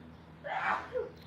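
A single person's sneeze, short and fairly close, with a brief breathy intake and burst followed by a smaller trailing sound, in a quiet indoor setting during a makeup session.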